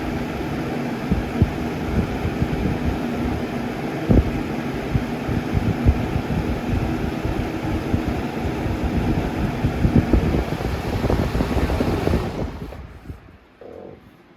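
A 1995 Windmere box fan, model 200/I with a brace blade, drones and throbs steadily as its blades spin, then coasts down and fades almost to silence near the end.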